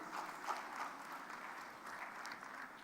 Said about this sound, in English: Let's give a round of applause for Jean-Claude.